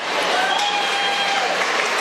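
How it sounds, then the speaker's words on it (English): Steady cheering and clapping from a crowd at the EKKA 2017 dog show, ringside while a British Bulldog moves around the judging ring, a dense and continuous wash of sound with no break. "Bit of cheering from the crowd, they must like this British Bulldog."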